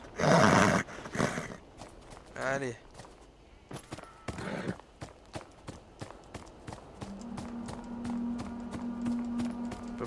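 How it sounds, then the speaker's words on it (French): Horse ridden in Beyond Two Souls: steady clip-clop hoofbeats and galloping run under intermittent talk, with a loud neigh or whinny early on and a low droning tone joining the later stretch. "Il faut que j'aille à cheval."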